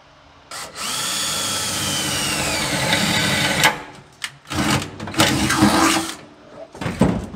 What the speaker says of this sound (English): Drill me a hole right here.